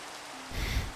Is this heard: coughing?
no